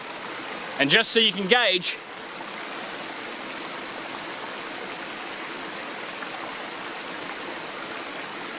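Water flows out through side gaps in a rock dam along a stream, a steady, moderate rushing wash that carries on alone after a brief stretch of talk at the start.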